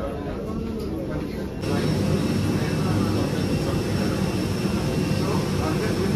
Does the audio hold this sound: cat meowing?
no